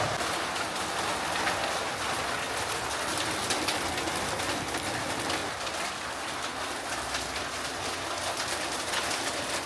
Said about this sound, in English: There is a literal hailstorm happening right now.